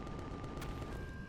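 Turrets trade gunfire in the sci-fi game Empyrion Reforged Eden, a dense, muffled rumble of rapid shots and booms blending into one continuous, fairly distant roar for just over a second.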